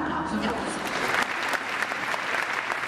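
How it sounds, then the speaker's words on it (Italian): An audience at an evening music festival event claps steadily, dense close applause filling the room throughout. "Un applauso"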